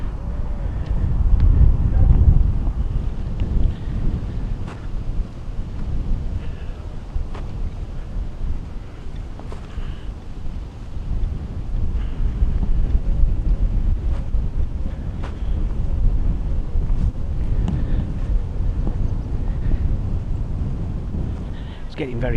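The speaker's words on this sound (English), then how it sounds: "It's getting very windy over this side." Strong wind buffets the microphone outdoors at Castle Rising, with a steady, deep rumbling roar that surges and eases throughout, with no one speaking.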